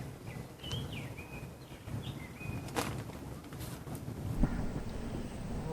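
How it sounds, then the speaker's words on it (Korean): Small birds chirp and whistle in short, thin calls at an outdoor carp fishing pond, faint against a steady wash of wind buffeting the microphone, with no talking. "입질이 없어도 새소리 들으니까 너무 좋습니다"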